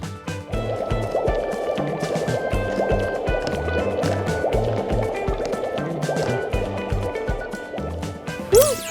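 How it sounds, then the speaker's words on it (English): Small doll clothes are sloshed and squished by hand in a basin of water, giving a steady liquid gurgling and dripping that runs throughout, with a brief higher splash near the end. "And then we wash it in the water."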